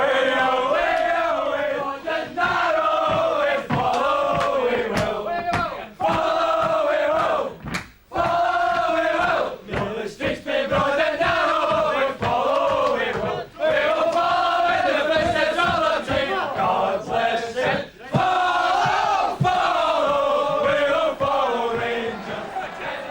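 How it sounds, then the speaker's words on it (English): Huge football crowd roaring and cheering continuously at a Rangers championship-winning celebration, a loud sustained wall of voices with chanting swells and brief dips throughout. "the crowd awaited the victors"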